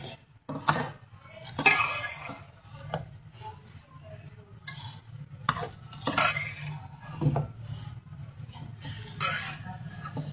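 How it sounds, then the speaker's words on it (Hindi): Roasted semolina is mixed into turmeric halwa in a pan. Intermittent scraping and clinking of a spoon against the pan come and go over a soft, steady background hum. "जल्दी से कर लेंगे मिक्स।"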